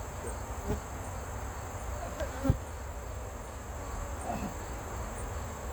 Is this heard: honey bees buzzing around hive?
yes